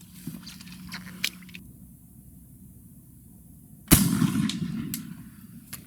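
An 1853 Enfield black powder rifle fired with a 60 grain Schutzen charge, a single sharp loud crack close by, followed by a brief rumbling decay after a quiet stretch with small handling clicks.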